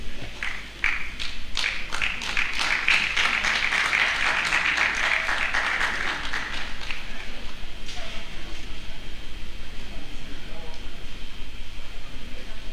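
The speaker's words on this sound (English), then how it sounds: "Let's clap as they mount the podium to launch this very important book." An audience at a book launch during a commemorative lecture claps steadily for several seconds, the applause swelling then thinning out into scattered claps and room noise, with talking underneath.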